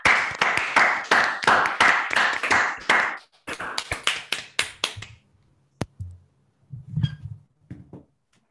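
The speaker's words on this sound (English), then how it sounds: "but not before we give Matt a round of applause." Audience applause after a talk at an academic conference session: a sharp burst of clapping for several seconds that thins into scattered individual claps and fades out.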